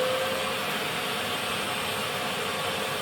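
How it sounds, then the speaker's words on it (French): A small vacuum cleaner runs at maximum power while powered from a portable power station, giving a steady, loud whirring roar with a thin whine throughout and no voices. "Après, on va allumer le petit aspirateur."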